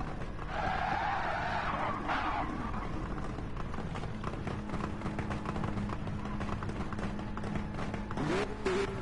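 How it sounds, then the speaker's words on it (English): A black Mustang does burnouts in Gran Turismo 7, its tires squealing and skidding over a steady engine roar, a continuous loud screech with rising and falling pitch across several seconds, no talk over it. "This guy's still doing burnouts."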